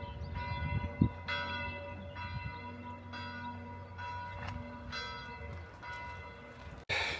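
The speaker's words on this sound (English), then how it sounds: "The bells, the bells!" Church bells ring in the tower of Sarteano castle in Tuscany, with about seven evenly spaced resonant strikes heard close and clear, each leaving a long ringing decay.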